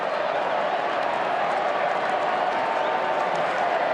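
A big crowd roars steadily at an AFL football match between Fremantle and Collingwood in 2011, a continuous dense wash of cheering and clapping from the stands with no break.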